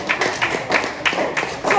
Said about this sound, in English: Do I deserve a round of applause?